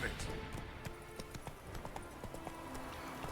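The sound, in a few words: Roach the horse galloping in video game The Witcher 3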